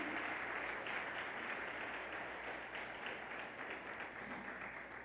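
A church congregation claps for Jesus during a worship service, a steady wash of applause heard at a distance and fairly faint, holding evenly throughout.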